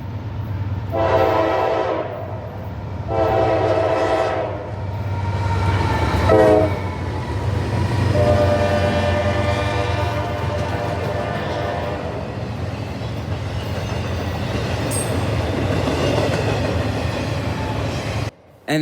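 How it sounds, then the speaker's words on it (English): A Norfolk Southern high-priority intermodal freight train led by AC44C6M, Dash-9-44CW and ES44DC locomotives passes close by in Belmont, North Carolina, blasting two long horn sounds and a short one over the steady loud rumble of wheels and cars, with a brief final horn note. "NS24X is a high-priority intermodal train from Atlanta, Georgia Inman Yard to Jersey City, New Jersey, Croxton Intermodal Terminal."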